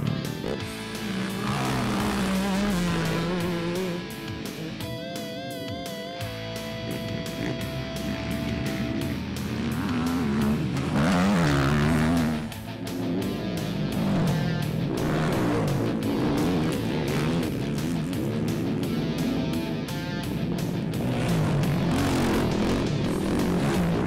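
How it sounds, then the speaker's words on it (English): Motocross bikes opening up on a two-kilometre MX section during a four-hour endurance race at Taupo, a dense, continuous roar of revving engines, some passing close by, loud throughout with no talk. "The 2-kilometre MX section proved very popular with the riders as they got to really open up their bikes"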